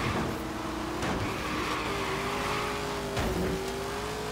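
A car drifts in the video game Forza Horizon 3, Hot Wheels expansion, its engine holding a loud, steady high-revving drone with brief surges and faint tire noise throughout.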